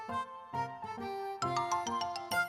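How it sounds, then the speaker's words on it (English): A doorbell in the classic animated show Miffy and Friends rings out as a series of bright, tuneful chime notes, close and clear with no talk over it. "Just then the doorbell rang."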